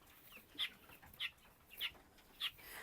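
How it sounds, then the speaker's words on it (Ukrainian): Four evenly spaced high chirps from chickens, close by and fairly quiet, over a faint background hum. "Дивіться, які пташки."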